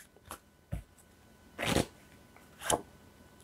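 Soul message cards from a tarot-style deck being shuffled and drawn: four soft, brief papery rustles, sparse and quiet, with no voices.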